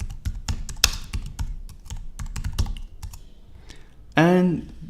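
Folder names being typed on a computer keyboard, a rapid run of crisp key clicks close up, ending with a brief spoken voice.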